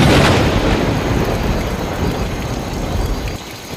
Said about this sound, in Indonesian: Tiba-tiba langit menjadi gelap, hujan badai terjadi dengan seketika, dan sebuah kilat menyambar tubuh Malin Kundang.